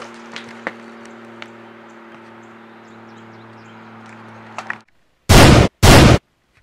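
A sniper rifle sound effect fires two loud, sharp shots in quick succession, cutting in right after a steady low hum that drops into silence.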